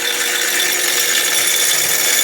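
A bench grinder, not bolted down, whirs at full speed with a loud steady high-pitched whine while sharpening a mower blade for an Exmark Radius E-Series zero-turn mower.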